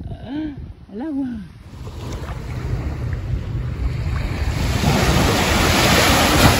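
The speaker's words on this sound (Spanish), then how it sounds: "Miren qué lindo el mar." Ocean surf at Miami Beach washes in a steady, building roar with wind buffeting the microphone, while a couple of brief voices sound at the start.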